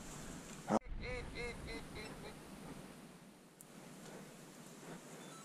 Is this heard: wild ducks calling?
yes